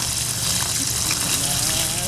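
Water gushes steadily from a hose or container onto chamomile plants in a home garden, a continuous close splashing stream.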